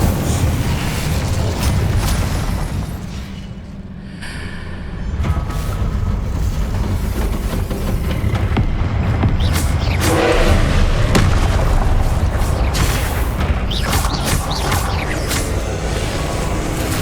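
Fire spell cast again and again in the Hogwarts Legacy video game: dense, loud bursts and booming blasts run almost without a break, with a short lull near four seconds and a fresh flurry of crackling impacts near ten seconds.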